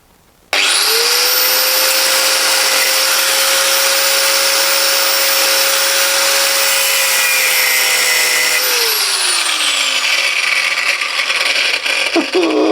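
Power tool cutting through a nut while removing panels and a bulkhead, a loud steady high-pitched whine that runs down at the end, throwing sparks.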